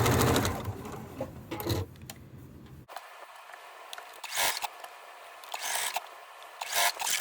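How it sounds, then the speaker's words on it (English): A sewing machine stitches small fabric pieces for a mini heart coaster in short bursts of rapid whirring, broken by pauses with light handling and rustling sounds, loud and close. "we're just gonna sew on the line all the way through"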